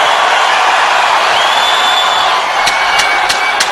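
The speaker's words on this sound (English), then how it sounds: "All right, this crowd loves it." A packed arena crowd at a UFC fight in T-Mobile Arena, Las Vegas, roars loudly and steadily with cheers and whoops, and a few sharp slaps or thuds stand out near the end.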